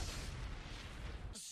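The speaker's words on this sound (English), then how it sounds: "Second Big Bang." A roaring, full-band explosion rumble from the Futurama cartoon depicting the Big Bang, loud and continuous, then cut off abruptly.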